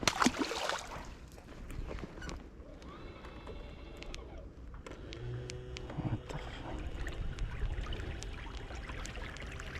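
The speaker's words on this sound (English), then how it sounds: "Motor tweaking out." A boat motor runs erratically on a spring bass fishing trip, its faint, uneven whine wavering over water splashes and low rumble.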